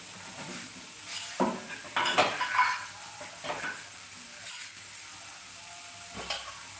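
Mustard seeds and urad dal added to a hot pan for a green gram curry, metal utensils clinking and scraping against the pan in scattered bursts over a light sizzle, close by with no talk.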